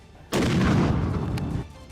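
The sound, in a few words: mortar fire on battlefield in Yemen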